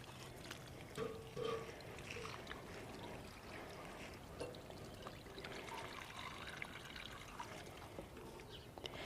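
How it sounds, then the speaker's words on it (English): Water poured from a watering can onto the base of a potted hydrangea in a container garden, a faint continuous splashing trickle, steady with no talking. "Now I'm going to direct this water more towards the back."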